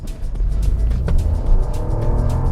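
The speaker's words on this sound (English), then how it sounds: "you will still hear the engine revving" The 1.2-litre petrol engine of a 2023 Perodua Ativa Hybrid SUV revs steadily and loudly throughout, a continuous mechanical drone with slight rises in pitch, close by.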